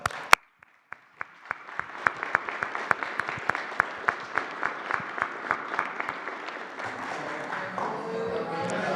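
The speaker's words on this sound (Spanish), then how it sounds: "Un aplauso." Applause at a presidential press conference in Mexico, beginning with a few sharp separate claps that build into steady crowd clapping, then thinning into a softer rustling close near the end.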